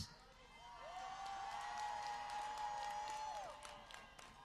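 Faint, distant applause from a union rally crowd in New York City, with scattered cheers and a long, held whoop rising above the steady clapping before it fades.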